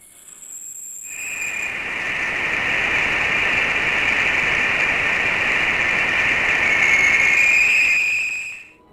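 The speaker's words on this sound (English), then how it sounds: "the spacecraft recorded a strange sound, a monotonous hum interrupted by a piercing whistle" A steady, eerie hum recorded by the Cassini spacecraft carries a piercing high whistle that holds for several seconds before fading out.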